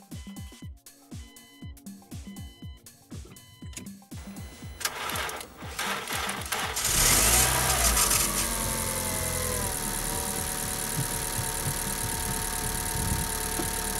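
A car engine with a flat battery is cranked with a T7 jump starter at -20°C: rapid rhythmic starter cranking for several seconds, then the engine catches and settles into a loud, steady idle.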